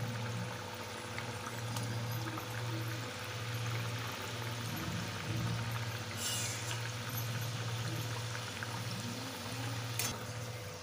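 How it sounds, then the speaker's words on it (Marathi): Kapanya, wheat snacks, fry in hot oil with a soft continuous bubbling hiss, steady and close, with a low hum beneath and a couple of faint clinks. "तेल तापले, कापण्या सोडून घ्यायच्या."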